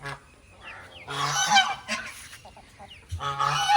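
Loud, harsh honking bursts from ducks close by, two long calls separated by quieter squawks and shuffling.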